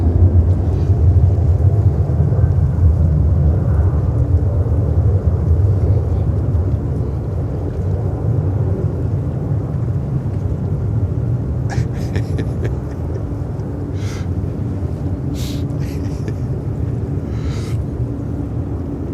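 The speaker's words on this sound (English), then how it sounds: "With a 787-9 Dreamliner to Bahrain" A Boeing 787-9 Dreamliner heavy jet departing JFK, heard as a broad distant roar and low rumble that slowly eases off, with a few faint clicks and brief higher sounds over it.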